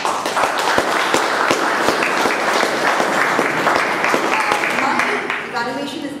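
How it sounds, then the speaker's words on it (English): An audience gives a speaker a round of applause, a dense, steady clapping that fills the room and fades slightly at the end. "A huge round of applause for him."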